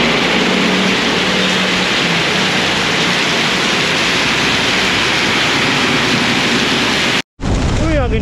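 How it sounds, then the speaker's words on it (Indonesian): Heavy rain pouring down at a roadside stop during a Vespa touring trip, a loud, dense, continuous hiss that cuts off abruptly near the end before resuming. "ini hujannya deras banget teman-teman"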